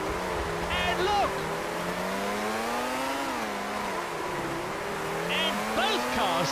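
A Formula One car engine from the PS2 game Formula One 2001 whines at high pitch, rising and falling with gear changes, loud and continuous while a commentator talks over it.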